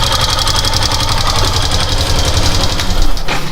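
Steady rattling knock from a Yamaha Factor 150 motorcycle engine at idle, close and loud, a fast even clatter over the low running drone, briefly swelling near the end.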